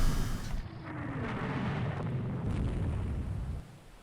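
Naval gunfire from warships in the strategy game Rule the Waves 2, a dense rumbling barrage of booming shots rolling together at steady loudness before easing off near the end, with no talking.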